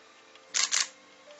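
A Nikon D7200 camera fires its shutter for a single shot, a quick double click, quiet and close, against near-silent room tone.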